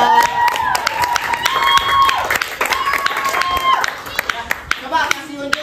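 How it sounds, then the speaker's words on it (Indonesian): A classroom of students claps for a student group, a loud, brisk burst of many hands that carries through the whole stretch, with children's voices calling and shouting over the clapping. "Beri tepuk tangan buat Idan."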